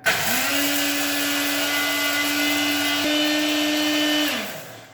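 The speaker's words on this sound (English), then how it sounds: "So we're just going to grind down our oats here." Oats grind in a lidded electric food grinder: a loud, steady high-pitched motor whine that starts abruptly, holds for about four seconds, then winds down. No voices.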